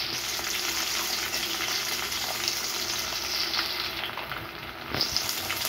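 Onions and green chillies fry in a pan as a raw banana curry is cooked, giving a steady, loud sizzle that rises briefly near the end as the mixture is stirred. There is no talking.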